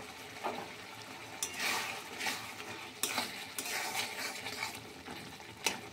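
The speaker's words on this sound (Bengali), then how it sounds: "এখন এভাবে একটু ভালো করে নেড়ে নিচ্ছি" A spoon stirs watermelon rind curry with ghee and meat masala in a pan, making repeated close scrapes and clinks over a soft, steady sizzle, with no talking.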